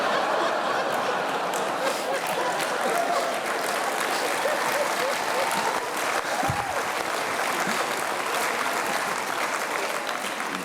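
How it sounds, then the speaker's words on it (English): Sustained, dense applause from a large audience at a medical school commencement ceremony, steady and fairly loud throughout with scattered light laughter mixed in. "That's the most applause I've ever heard for that, for the record."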